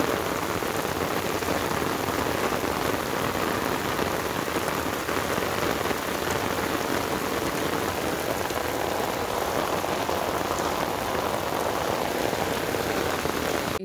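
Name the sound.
heavy rain falling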